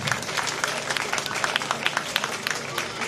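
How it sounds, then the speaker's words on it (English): Event audience breaks into a round of applause for a speaker, a dense, lively clatter of many hands clapping at once, steady and fairly loud from start to finish. "Another round of applause for Deborah."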